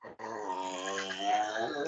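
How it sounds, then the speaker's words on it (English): A one-year-old puppy growls in a long, low, steady rumble close by, with no talking over it. "those noises are my dog"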